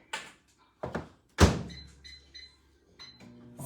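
A microwave door is shut with a solid thunk while a sausage and egg breakfast ring goes in to cook, preceded by a couple of smaller knocks and handling noises, followed by faint beeps and a low hum nearby.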